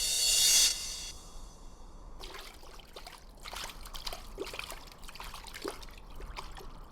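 Water trickles from a desert spring as a story sound effect: a short bright hiss at first, then a steady, soft, gurgling dribble that runs on alone.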